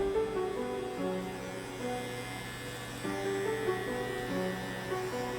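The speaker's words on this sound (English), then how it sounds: "I'm grabbing the Andis Masters clipper." An Andis Masters hair clipper runs steadily with a low electric buzz and hum, close and continuous, with no talking.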